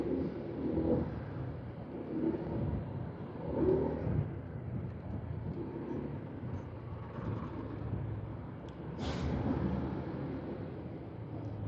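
A car engine with its check-engine light on after a first oil change hums in a low, steady drone throughout, with mild swells and a brief higher-pitched rise near the end.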